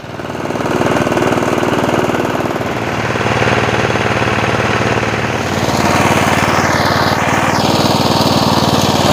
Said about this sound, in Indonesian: karena berisik suara mesin